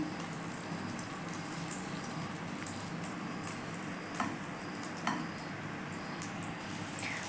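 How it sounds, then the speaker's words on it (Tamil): Bread frying in melted butter in a pan for pav bhaji gives a steady, close, low sizzle and crackle, with a few soft clinks of utensils against the pan and no talking. "ஒரு பேன் வச்சு அதில் வெண்ணெய் போட்டுக்கலாம். இதில் ப்ரெட்டை போட்டுருங்க."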